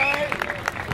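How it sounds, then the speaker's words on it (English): Brief burst of audience applause after a live performance of a song by a band, heard with some crowd noise and a voice over it. "A round of applause, y'all."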